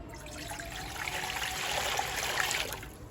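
Water poured steadily from a jug into a mixing vessel while making watermelon sherbet, a continuous close trickling splash with no talk.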